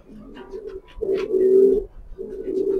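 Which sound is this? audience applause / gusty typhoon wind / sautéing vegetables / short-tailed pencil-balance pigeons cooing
short-tailed pencil-balance pigeons cooing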